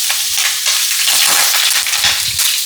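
Chicken pieces for loaded chicken fries crackle and sizzle loudly in hot oil in a home kitchen, a dense, continuous close-up frying hiss with no talking.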